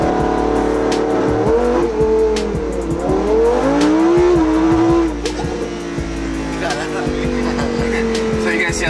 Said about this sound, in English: Should we test launch control?